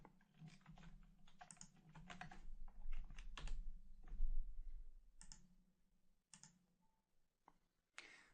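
Someone types SAP ABAP code on a computer keyboard, producing bursts of rapid, close clicking keystrokes that thin out into a few separate taps near the end.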